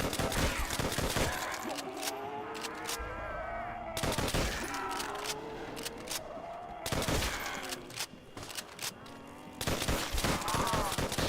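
M1 Garand rifle fire in an old-school Call of Duty zombies round, sharp gunshots cracking out in rapid clusters among game explosions and zombie groans, loud and dense throughout with brief lulls.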